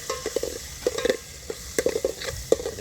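A spoon stirs masala into tomatoes frying in a pan, giving irregular scraping taps over a soft sizzle, close and clear with no talking.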